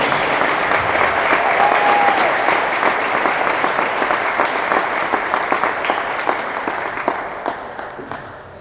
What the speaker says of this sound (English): Let's have a round of applause for McKenna and all of the teams.